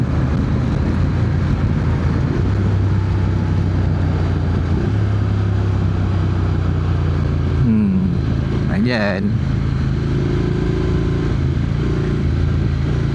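Honda X-ADV 750 motorcycle riding, a steady engine drone with shifting low tones and wind rush throughout, with a passing whoosh midway while a rider talks over it.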